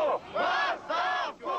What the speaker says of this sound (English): Crowds protested, accusing the government of being criminal and yelling for Gorbachev's resignation.